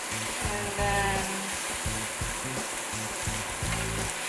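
Sweet peppers sauté in a pan, a continuous close sizzle mixed with rhythmic stirring scrapes.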